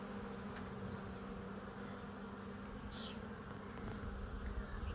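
Honeybees buzz steadily at an open hive during a hive inspection, a soft, continuous drone with one bee passing briefly closer near the middle and no talking.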